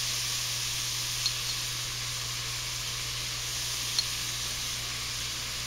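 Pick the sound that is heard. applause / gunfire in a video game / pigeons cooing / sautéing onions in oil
sautéing onions in oil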